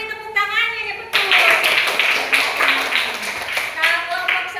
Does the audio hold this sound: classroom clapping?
yes